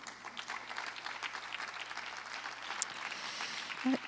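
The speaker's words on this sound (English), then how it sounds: "You can clap now." Faint audience applause at a public school board meeting, a soft, steady patter of many hands, distant and low, ending with a brief sharp knock.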